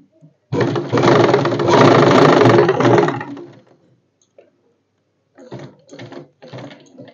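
Sewing machine stitching the shoulder seam of a churidar blouse, one loud continuous whirring run of about three seconds, then quiet, followed by a few short, softer bursts of stitching.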